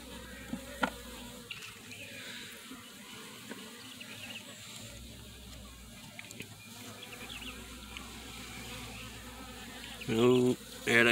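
Honeybees buzzing inside an opened nuc hive, a steady, soft insect drone running throughout, with a few louder knocks and handling noises near the end.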